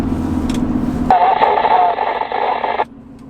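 Static from a Midland MXT115 two-way radio at the edge of its range, a steady broadband hiss starting after a second of low rumble and lasting nearly two seconds before cutting off abruptly.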